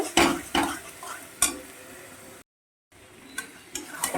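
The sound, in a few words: chicken being stirred and fried in a wok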